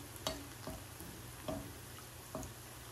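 Soft paneer and potato malai koftas frying in ghee in a pan, a quiet steady sizzle with a few soft clinks or taps spaced about once a second, no talking.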